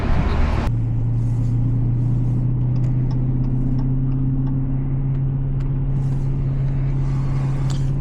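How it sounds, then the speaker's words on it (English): A 2022 Dodge Challenger Scat Pack Shaker cruises in the rain, its engine holding a steady low drone with road and tire rumble throughout and faint patter above, after a brief louder burst at the start. "So, taking my 2022 Dodge Challenger Scat Pack shaker on a POV drive."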